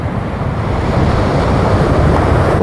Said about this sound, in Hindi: देखिए पानी का तेज़ लहर आ रहा है